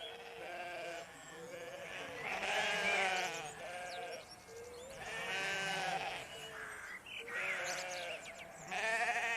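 Sheep bleating in a children's animated farm scene: repeated wavering bleats from several animals, fairly close and clear, overlapping one another.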